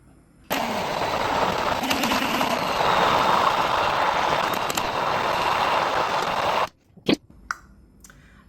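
An immersion blender whirs through a cooked mixture, starting abruptly and running loud and steady for several seconds before cutting off, followed by a few short knocks and clatters.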